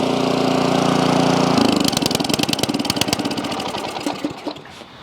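An Ariens 24-inch snow blower engine with a broken cable runs loud and steady, then shifts into a rapid, uneven chugging pulse with sharp repeated knocks, fading slightly toward the end.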